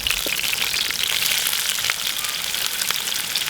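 Beef ribs grilling over hot coals give off a steady, dense sizzle of rendering fat, with scattered sharp pops and crackles bursting through close up, no voices.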